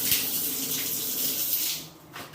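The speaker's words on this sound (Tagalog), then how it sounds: "drain natin yung tubig ng heating element" Water drains from a single-point water heater in a steady hissing, splashing stream that runs continuously before tapering off near the end.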